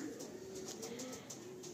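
An old-line breed pigeon, part of a breeding pair, coos softly in low, drawn-out rolling notes, faint and close, over a quiet background with light high-pitched ticking.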